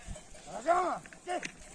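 Sheep on a farm bleating, two wavering calls close by with a short gap between them, over a quiet rural background.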